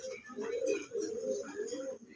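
Pigeons cooing close by in a loft, a few soft repeated throaty coos in a steady rhythm, with a faint voice in the background.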